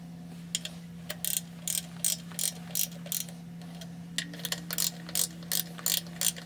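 A torque wrench ratchets while tightening bolts on the bottom end of a Ford 4000 engine, sharp clicking bursts in short rhythmic runs with brief pauses between, close and clear over a low steady hum.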